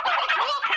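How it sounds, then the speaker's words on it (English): A loud burst of rapid gobbling fowl calls, a close warbling chatter lasting under a second with no voices. "That must be the chickens."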